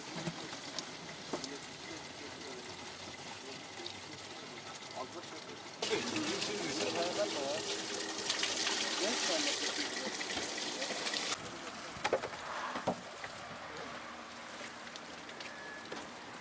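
Natural spring water fed by melting mountain snow in Erzurum runs in a steady wash with a louder, fuller gush in the middle, while voices talk over it.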